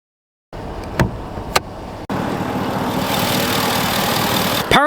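A 2026 Ram 1500 Warlock's 5.7 liter Hemi V8 with an 8-speed automatic, with a few clicks and a thump before the engine starts, then a steady loud idling rumble.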